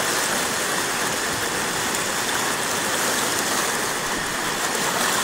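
Strong floodwater current in Mohishmara, Bangladesh, roars in a steady, dense wash of rushing water, loud and unbroken throughout with no voices.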